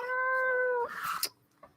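A pet cat lets out a single drawn-out, close meow, which slides into a rougher trailing note before falling quiet.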